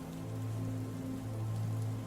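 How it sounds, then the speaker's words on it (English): Rain falls steadily on the stone of a temple during the monsoon, a soft, even patter of drops over a low background hum. "And as the first drops of rain fell, splattering gently against the stone of the temple"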